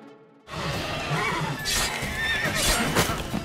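A horse in The Witcher 3 whinnies loudly over clip-clopping hooves and a sharp crash, busy and close, after a brief quiet start.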